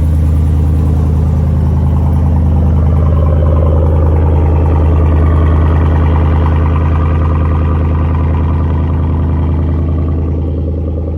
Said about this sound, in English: I just can't get over how good this exhaust sounds